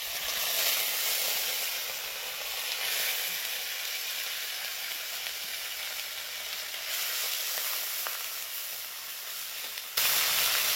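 Onion paste hits hot oil in a spice-tempered pan and sizzles loudly and continuously, a broad steady hiss that stays close and unbroken, with a sudden jump in level near the end; no talking.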